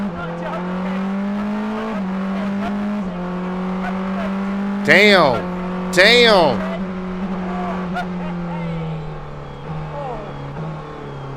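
A Porsche 963 RSP race car engine drones steadily on a public road, with two sharp revving bursts midway, as someone talks and exclaims over the motor noise.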